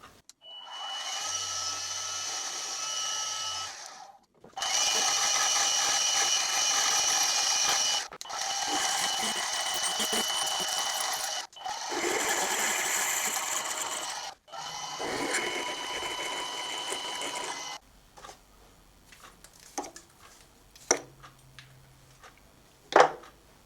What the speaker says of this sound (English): we're ready to drill the 1/2 inch hole